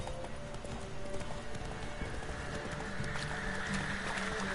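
Roach, the horse in The Witcher 3, gallops with a quick, steady clip-clop of hooves. A voice talks over the hoofbeats.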